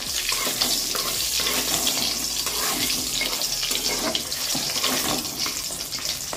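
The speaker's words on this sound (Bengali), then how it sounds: "এখানে কড়াইয়ে আমি তেল চাপিয়ে কটা বড়ি ভেজে নিচ্ছি" Lentil dumplings (bori) frying in hot oil in a wok, a dense, continuous close sizzle with a low hum underneath, steady from start to finish and no voices.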